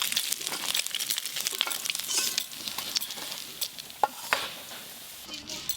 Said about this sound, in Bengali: কেটে ধুয়ে রাখা মূলো আর আলু একসঙ্গে ভালো করে একটু ভেজে নেব।